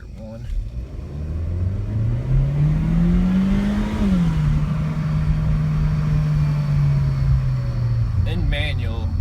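A 2017 Chevy Sonic's turbo engine pulls hard in first gear, its pitch climbing steadily for about four seconds, then settling into a sustained loud drone close by.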